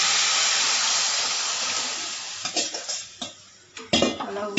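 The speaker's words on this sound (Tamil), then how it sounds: "இப்போது இந்த குழம்ப கரைச்சி வச்சதை நல்லா ஊற்றிக்கலாம்" Dissolved tamarind curry mixture for a Chennai-style fish curry goes into a hot pan, giving a loud, steady sizzling wash, then a few close metallic knocks and scrapes from stirring near the end, with no one talking.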